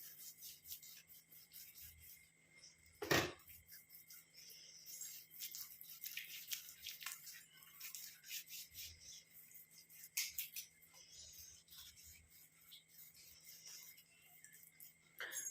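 Soft, close rubbing and faint friction as cream is worked into the hands during a gentle massage, with quiet skin-on-skin strokes and one sharp bump partway through.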